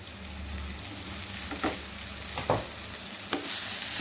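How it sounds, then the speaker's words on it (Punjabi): Fried okra is stirred into masala in a pan, a low steady sizzle with three or four distinct scraping strokes of the spatula close by. "ਹੁਣ ਅਸੀਂ ਇਹਦੇ ਵਿੱਚ ਐਡ ਕਰ ਦਵਾਂਗੇ ਆਪਣੀਆਂ ਫਰਾਈ ਕੀਤੀਆਂ ਹੋਈਆਂ ਭਿੰਡੀਆਂ"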